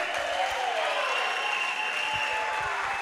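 A church congregation applauds and cheers in a worship service, a dense, steady wash of clapping and crowd noise held at full strength for the whole stretch, with a sustained tone running underneath.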